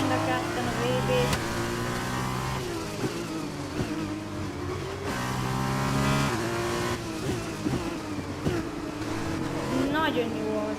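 Formula 1 race car engine in the F1 2021 video game, screaming and rising through the gears with sharp shift breaks and repeated revving, with talk layered over the engine.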